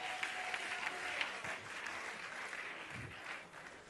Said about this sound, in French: Est-ce qu'on peut applaudir pour Blessing Lobo, s'il vous plaît?